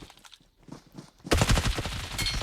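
Gunfire in the video game PUBG: after a quieter opening, a loud, dense burst of rapid automatic shots erupts and keeps rattling close up to the end.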